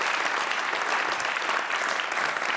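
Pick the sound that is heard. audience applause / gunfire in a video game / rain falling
audience applause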